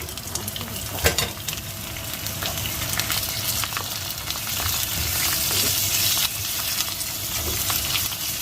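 Shrimp and squid stir-fry in a hot pan for a chili and stink bean dish, giving a steady, close sizzle with occasional scraping stirs and no talking.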